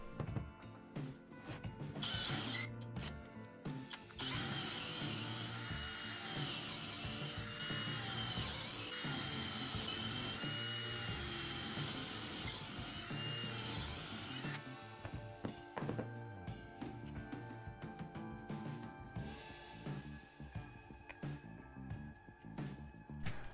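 A power drill fitted with a nut used as a depth stop on a large-diameter bit whirs at high speed for about ten seconds, steady and loud, with shorter bursts before and handling clatter afterward.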